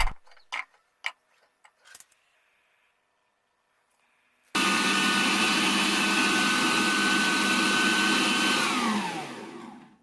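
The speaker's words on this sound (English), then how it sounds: "Mix that together with some fish sauce in a blender." Blender whirring loudly as it purees ginger, garlic, onion and fish sauce for kimchi paste, a steady motor roar that starts abruptly after a few faint kitchen clicks and winds down near the end.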